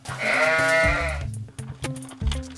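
A single drawn-out goat bleat rings out clearly near the start on a small dairy farm, with light music continuing underneath and after it.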